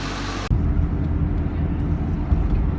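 2001 Ford Mustang GT V8 running on a test drive after intake gasket and coolant leak repairs, a steady low rumble of engine and road noise from inside the moving car, continuous throughout.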